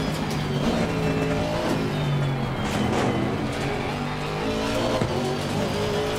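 GT3 and GT4 race cars, including an Aston Martin, at Oulton Park in Assetto Corsa Competizione: engines drone and shift pitch steadily under continuous commentary, with brief tire squeals.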